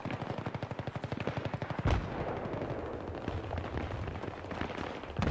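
Rapid machine-gun bursts fire in Battlefield 3 on PS3, a fast regular rattle of shots followed by a heavy impact, then scattered gunfire and rumbling battle noise.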